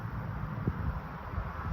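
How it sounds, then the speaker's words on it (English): Wind buffets the microphone outdoors beside a two-burner griddle, a steady low rumble with gusty fluctuations throughout. "It is windy out here."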